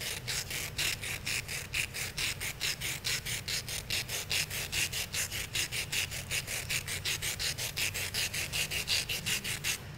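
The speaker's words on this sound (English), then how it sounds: "as you sharpen, you'll rotate the charcoal back and forth so as to evenly sharpen it down to a point" Charcoal stick drawn back and forth at a shallow angle across sandpaper while being rotated to a point, giving a steady, rhythmic rasping scrape of quick even strokes, close and continuous with no talk.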